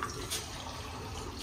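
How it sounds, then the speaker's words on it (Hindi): Water pouring from a water cooler into a glass in a home kitchen, a brief steady trickling stream heard close and fairly quiet, with no talking. "पानी का गिलास भर दो कूलर से।"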